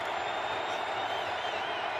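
Roaring stadium crowd at an NFL night game between the Packers and Steelers, a dense, steady wall of cheering voices spread wide and sustained throughout.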